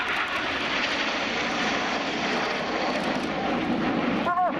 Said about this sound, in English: the following pilots use a lot of rudder to swing the jets out like a pendulum